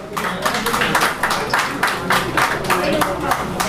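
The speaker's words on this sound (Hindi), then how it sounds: "जोरदार तालियां बजाकर" Audience applause at a mass meeting, a dense burst of loud clapping in irregular surges from a crowd, close and continuous throughout.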